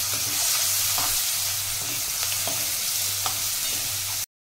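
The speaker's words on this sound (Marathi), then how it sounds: "आता टोमॅटो घालून घेते, आणि गॅसची फ्लेम बारीक ठेवते" Tomatoes sizzling in a pan over the flame while cooking kurdai upma, a close, steady frying hiss with occasional stirring clicks, cutting off abruptly at the end.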